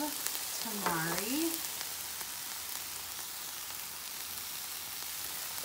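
Vegetables frying with a splash of tamari and spicy taco mix make a steady, soft sizzle in a pan, with a brief voice-like tone early on, then an even hiss throughout.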